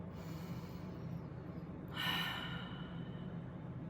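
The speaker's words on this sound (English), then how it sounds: "take a moment and take a deep breath" One slow, deep breath, soft and close, swells briefly in an otherwise quiet, hushed room.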